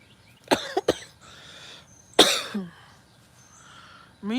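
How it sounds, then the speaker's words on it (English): Several sharp, close coughs in quick succession near the start, then another harsh cough a moment later, set against a quiet outdoor garden background with a brief voiced sound at the end. "Me and my cough, I swear."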